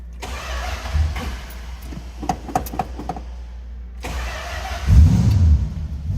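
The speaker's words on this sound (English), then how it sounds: "Let's go ahead and start it up" A 1966 Plymouth Fury III convertible with a 318 V8 and automatic transmission cranks and starts, with a brief starter whir, a catch, then a rumbling, slightly uneven idle that swells louder near the end, heard close and without talk.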